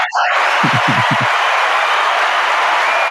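Canned applause and cheering played from a podcast soundboard, a loud wash of clapping that holds steady for about three seconds and then cuts off abruptly.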